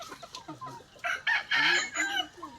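Chickens cluck close by in a yard beside a small tiny house, a few soft low clucks followed by louder, drawn-out squawking calls from one or more hens.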